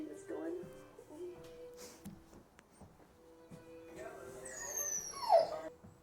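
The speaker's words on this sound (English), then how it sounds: "Yes, that was a dog. A very cute dog." A shepherd mix dog indoors gives soft whimpers and small yips, faint and intermittent, with a brief higher cry near the end over quiet room noise.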